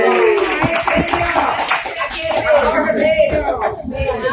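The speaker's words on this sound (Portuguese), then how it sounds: "uma salva de palmas para o Pedro." Scattered hand clapping for Pedro at a community sustainable-health program gathering, sharp claps mixing with overlapping voices and chatter close by.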